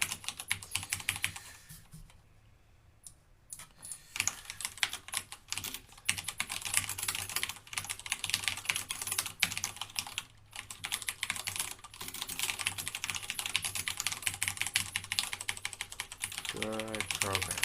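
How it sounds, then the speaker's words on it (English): Rapid, close typing on a computer keyboard while programming, with dense bursts of key clicks interrupted by a few short pauses. "I can't type, you guys."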